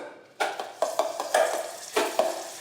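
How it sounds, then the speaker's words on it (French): Butter stirred into hot caramel in a pan: bubbling sizzle punctuated by about six sharp spoon-against-pan stirring strokes, close and clear with no voices. "Et là je viens déglacer avec mon beurre le caramel"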